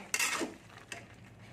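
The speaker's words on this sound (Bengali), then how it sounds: "চিনিটা দিয়ে একটু ঘেটে দেবো।" A spoon stirs sugar into potato and banana blossom curry in a pan, giving a short scraping clink followed by a second, fainter scrape, with a soft sizzle underneath.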